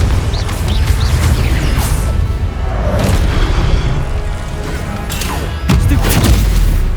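A fiery Confringo spell blast in the Hogwarts Legacy video game, a loud booming burst amid dense battle rumble, with a second sharp impact near the end and no talk.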